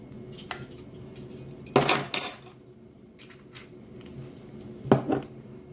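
Utensil clinking against a bowl while stirring seitan dough seasoned with black pepper and salt, two sharp clattering bursts amid quieter scraping, close and fairly soft.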